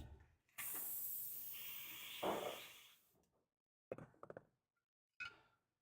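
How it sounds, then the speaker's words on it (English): Spray gun being cleaned after a painting session: a sustained loud hissing blast of air and spray lasting a few seconds, followed by several short sharp spurts and bursts, close up with no talking. "Where's the spray gun?"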